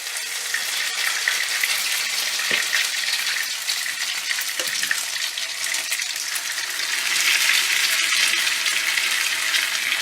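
Potato pancakes fry in a pan of hot oil, a loud, steady, bright sizzle that carries on unbroken, with a couple of soft knocks in the background.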